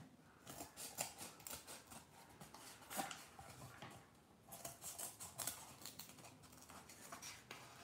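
Scissors cut through fabric for a patchwork sewing square, making repeated crisp snips in quick bursts with brief pauses, close but quiet.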